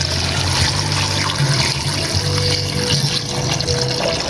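Water pours steadily over thinly sliced kamias fruit for jam, a continuous close splashing and trickling stream without any pauses or talking.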